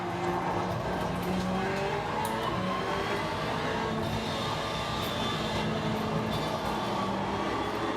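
Race car engine sound played through a racing simulator rig, a steady droning roar with shifting engine tones that runs the whole time at moderate level, with no talk.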